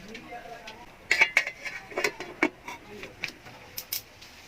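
A metal pot lid clatters open on a pot cooking saba and sardines, giving a cluster of light clinks and taps against cookware, faint and close in a quiet kitchen.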